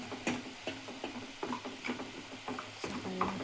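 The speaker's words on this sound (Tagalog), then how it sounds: "Ilagay na natin yung ating pansit." Pancit noodles cook in a pan with a soft sizzle, broken by quiet, regular tapping and stirring strokes. The sounds are faint and close.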